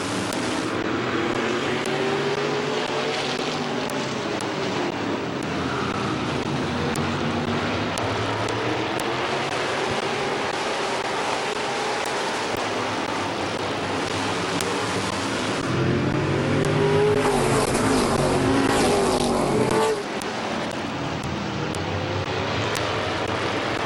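Race cars circling Midvale Speedway during a race, a steady, dense engine roar that stays loud and fairly close throughout, swelling briefly as cars pass nearest, with no speech.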